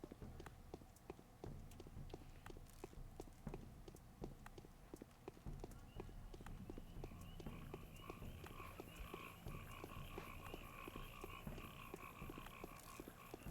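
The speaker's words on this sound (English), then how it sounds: "Why are there frogs croaking in my ear?" Frogs croak in a swampy outdoor area of the video game Pathologic Classic, a steady chorus of repeated calls over a busy bed of footsteps and ambient game noise throughout.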